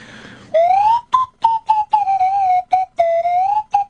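A novelty whistle horn is blown in a run of short, tonal whistled toots, one longer rising note followed by several brief bursts, loud and close with no talking.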